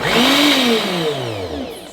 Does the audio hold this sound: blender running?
yes